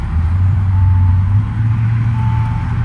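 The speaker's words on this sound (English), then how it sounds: "Let's go ahead and start the car." A 2018 Bentley Bentayga engine runs with a steady, close, low rumble and no talk over it; no distinct starter crank is evident, so it sounds like an idle just after the start.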